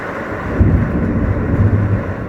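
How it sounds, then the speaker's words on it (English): Strong storm wind buffeting an RV at a campground, a loud, close low rumble with gusty swells and no voices. "You can see down here on that RV how the wind's just blowing off of it."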